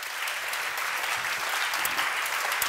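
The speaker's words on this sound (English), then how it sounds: "Let's make one big applause for the presenters." Conference audience applauding panel presenters, a steady dense wash of clapping heard at moderate distance for a few seconds.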